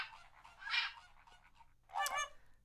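A flamingo calling in modded Minecraft, given as two loud honking, goose-like squawks about a second apart with no talk over them.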